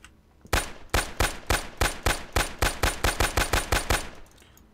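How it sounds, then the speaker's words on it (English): A carbine fires in a video game: about fifteen sharp, loud shots in an even, rapid rhythm, each ending in a short tail, with a quiet pause before the shots begin. "And then we're going to fire the carbine."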